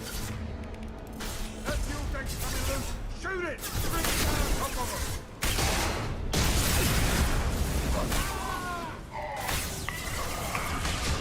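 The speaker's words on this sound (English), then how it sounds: "swap to plasma shotgun" A plasma shotgun in Mass Effect 2 fires repeatedly during a firefight, giving loud, dense bursts with whooshing, crackling impacts and explosions, while a person talks intermittently over the shots.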